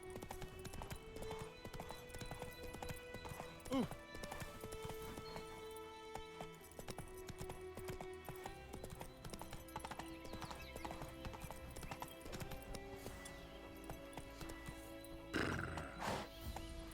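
Video game horse Roach trots with steady, rhythmic clip-clopping hooves, continuous and moderately close, over a layered game score, with a brief whinny-like sound and faint talk now and then.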